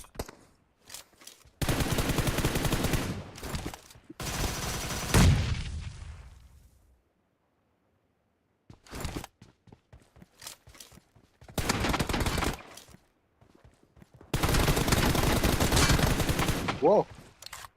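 Video game gunfire rattles in long automatic bursts separated by gaps of near silence, with occasional single shots, loud and close.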